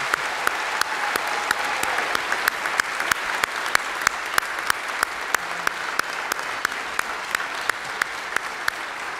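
A college commencement audience applauds, the steady, moderately loud wash of many hands punctuated by sharper individual claps that stand out at a regular rhythm throughout.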